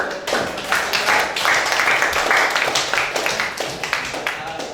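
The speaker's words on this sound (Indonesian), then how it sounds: "Boleh diberikan tepuk tangan" Audience clapping during a painting theory class, a dense run of sharp hand claps that stays steady for several seconds at close to moderate distance, with no speech over it.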